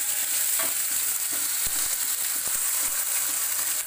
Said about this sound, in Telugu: రెండింటిని కలిపి ఇప్పుడు దాంట్లో వేసి మళ్ళీ కలపాలండి